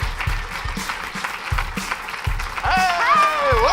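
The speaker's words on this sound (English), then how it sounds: "Let's give a big round of applause for Kris." Audience applause at a live local talk show as the first guest is brought out, clapping over a steady thumping beat, with whistling sliding in near the end.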